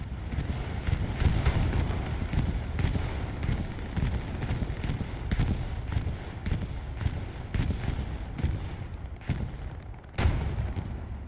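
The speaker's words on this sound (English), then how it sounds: "here comes a bombing run" Heavy booming explosions from a bombing run on Utah Beach in a competitive World War II shooter match, a dense barrage of repeated loud blasts and rumbling over about ten seconds, with wind-like roar underneath.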